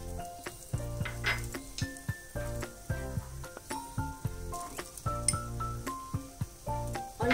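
Grated coconut roasts in a kadhai over a slow medium flame, a soft sizzle under repeated spoon scrapes and clinks against the pan in an irregular rhythm, close and fairly quiet.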